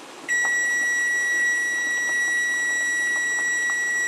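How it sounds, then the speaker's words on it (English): A kitchen timer sounds while sweet corn boils on the stove: a steady, loud, continuous high electronic tone that runs without pause, over faint kitchen background noise. "Timer's about ready to go off."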